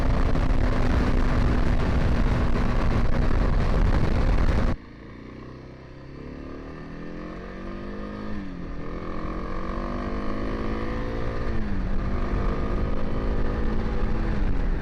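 A Kawasaki KLX 300 dual-sport motorcycle rides past, its engine loud and steady, then dropping into a rising and falling rev pattern as it shifts through gears, alone with no talk.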